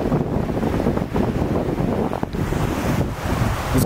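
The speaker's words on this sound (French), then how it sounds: "Je pense que vous m'entendez pas bien parce qu'il y a vraiment du vent. Et Théma, les vagues." Strong wind buffeting the microphone and choppy waves slapping on a lake during a paddleboard outing, loud and continuous, with no talking.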